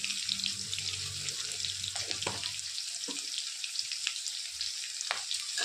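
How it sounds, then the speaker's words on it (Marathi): Green chilli and garlic frying in hot oil as asafoetida goes in, a steady close sizzle with a few brief clatters and no speech. "लसूण हे थोडंसं लालसर लालसर करायचं आपल्याला हिंग टाकत आहोत"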